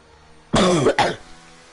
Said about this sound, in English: You got a sniffle there